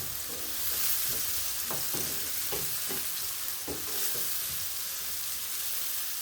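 Sliced onions fry with salt in a pan, a continuous sizzle under a run of scraping stirs that come about every half second.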